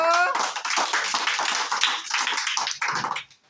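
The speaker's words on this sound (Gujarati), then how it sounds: "ચલો તાળી પાડો" A group of children claps hands in a classroom, a dense run of quick, overlapping claps filling the moment, close and fairly loud.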